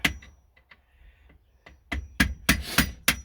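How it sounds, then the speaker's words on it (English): A hammer drives a chisel under the corner of a metal training plate, giving a series of sharp, close strikes that start sparse and then come quicker and louder, with no talking. "I'll get my trusted hammer and chisel. I'll just try and get the corner of the plate, just try and get underneath it."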